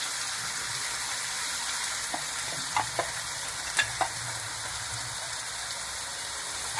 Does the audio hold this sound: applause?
no